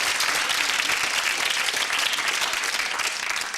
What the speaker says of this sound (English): Round of applause for that 12.